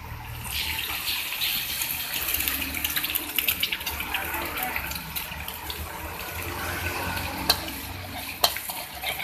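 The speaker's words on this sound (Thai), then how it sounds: "พริกกกระเทียมหอมนะคะ ใส่ไข่ไปเลยค่ะ ไข่หกใบค่ะ" Six eggs frying in a hot pan with chili and garlic, a dense steady sizzle and crackle with occasional stirring scrapes and utensil clinks close by.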